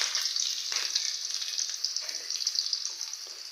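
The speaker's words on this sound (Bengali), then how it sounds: "বেঁচে থাকা তেলের মধ্যে আমি আরও কিছু পেঁয়াজ দিয়ে দেব।" Onions frying in leftover oil in a pan, a bright continuous hiss with crackling pops and soft stirring pulses, close and fairly loud, no voices.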